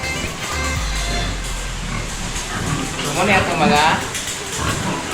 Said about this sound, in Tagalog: gwapa nga baboy dire